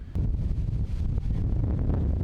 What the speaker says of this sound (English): Another round of windy conditions for the corridor.